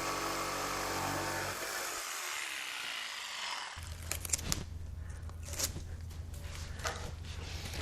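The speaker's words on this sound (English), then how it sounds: "I'm going to rough cut that with a jigsaw" A jigsaw rough-cuts a wooden hutch cabinet piece with a loud, steady buzzing whine that drops away partway through. Scattered clunks and handling knocks follow over a low hum.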